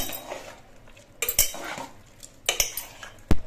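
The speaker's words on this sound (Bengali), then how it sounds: "এবার এই গুলে নেওয়া মশলাটা আমি খিচুড়ির মধ্যে দিয়ে দিচ্ছি নেড়ে চেড়ে মিশিয়ে দিতে হবে" Spoon stirring dissolved spice mix into khichuri made with parboiled rice in a pot, with a few scraping, clinking strokes against the metal, moderately close, and quiet gaps between them.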